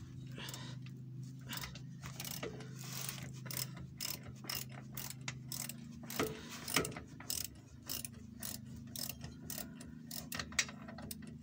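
A ratchet wrench works loose a suspension arm bolt on a Citroën C6, giving a long, fast series of close metallic clicks in repeated strokes over a low steady hum.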